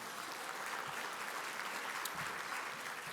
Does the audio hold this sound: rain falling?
no